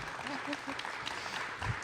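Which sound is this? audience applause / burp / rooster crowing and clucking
audience applause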